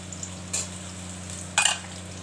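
Onions and green capsicum hit hot oil while being stir-fried for chilli chicken, giving two short, fairly faint sizzling bursts over a low steady background hum.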